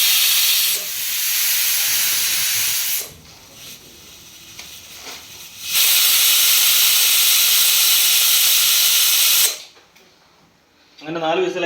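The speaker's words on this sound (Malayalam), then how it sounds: "അങ്ങനെ 4 വിസിലായി നമ്മൾ കുക്കർ ഓഫ് ചെയ്യാണ്" A pressure cooker releases steam in long, loud hissing whistle bursts, two sustained blasts separated by a quieter gap with kitchen sounds, close and harsh, ending with a rattling wobble.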